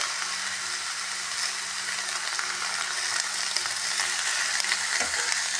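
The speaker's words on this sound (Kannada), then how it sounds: "ಇದಿಷ್ಟು ಹಾಕಿ ಮೊದಲು ಫ್ರೈ ಮಾಡ್ಕೊಳ್ಳೋಣ" Chopped onions and other ingredients frying in a pan for a chicken dish, a constant close crackling sizzle with a faint steady hum beneath and one small clunk near the end, no one speaking.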